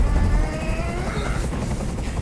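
A helicopter in a tense hostage scene in Detroit: Become Human produces a steady, loud, low rumbling drone with a whirring wash over it.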